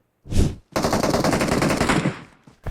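In PUBG Mobile, a short single burst, then a sustained stretch of rapid automatic gunfire, loud and close, ending abruptly with a faint shot after.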